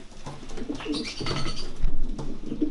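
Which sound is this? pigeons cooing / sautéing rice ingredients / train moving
pigeons cooing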